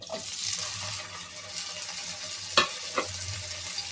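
Chopped onion and tomato softening in hot oil in a pan, a low continuous sizzle with a couple of sharp spatula scrapes near the end, close and fairly quiet.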